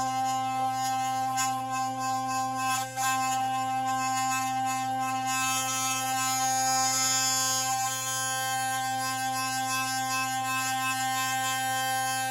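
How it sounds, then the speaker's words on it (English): A sonic toothbrush buzzing against a Samsung Galaxy Note 5's glass during a repair, giving a steady, loud, electric hum with bright high overtones that keeps going for the whole stretch. "Just using a sonic toothbrush works really good for cleaning."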